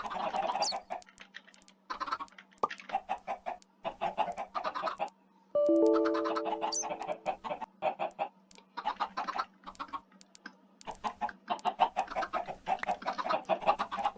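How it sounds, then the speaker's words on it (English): Chickens clucking in a Minecraft survival game, a flock of repeated short clucks and squawks coming in bursts, fairly close and steady throughout, with a faint constant hum beneath. "to start killing more chickens"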